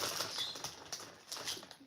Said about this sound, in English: Birds, shut your asses up.